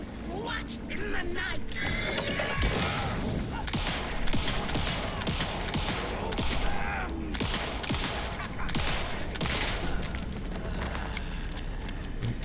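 Gunfire in the video game Alan Wake II, rapid sharp cracks scattered over a dense, loud mix of mechanical clatter and rumbling game sound, with a voice talking at times.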